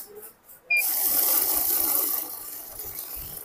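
A money counting machine running a batch of banknotes, a fast dense whirring flutter that starts abruptly and holds steady near the machine, then eases slightly toward the end.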